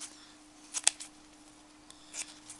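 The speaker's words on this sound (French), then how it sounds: "vous donnez des petits coups de ciseaux comme ça" Scissors make a few quick snips while trimming paper for a small parasol and hat, short sharp clicks spaced apart with a faint steady hum underneath, close by and with no speech.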